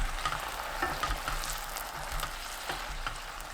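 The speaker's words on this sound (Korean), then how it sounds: "다진 마늘 1큰술, 표고버섯, 청양고추 넣고 골고루 섞어줍니다." Braised potatoes with minced garlic, shiitake mushrooms and chopped chili sizzle steadily in the pan while a utensil stirs them, the scraping and bubbling close and continuous throughout.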